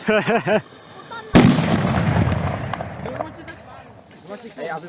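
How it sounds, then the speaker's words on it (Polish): One loud, sharp prank firecracker bang cuts off speech, and its crackling echo and rumble fade away over a few seconds before voices return. "To są, to są petardy dla pranksterów."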